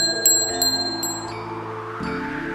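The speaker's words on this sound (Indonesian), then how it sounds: "Ia membunyikan genta sucinya sambil melafalkan mantra permohonan." A holy bell rings in a few bright metallic strikes that fade into long, overlapping resonant tones, with a clearly audible ring sounding throughout.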